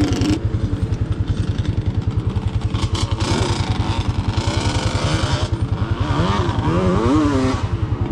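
A Yamaha Banshee 350 quad on paddle tires riding off road on dirt, its two-stroke engine buzzing loud and close with a fast pulsing beat that rises and falls as the rider revs.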